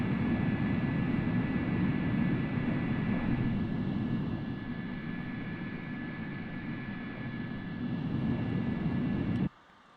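Simulated aircraft in a rapid descent in Microsoft Flight Simulator 2024, spoilers deployed: a steady, droning jet-engine roar with airflow hiss that eases slightly midway, then cuts off abruptly near the end.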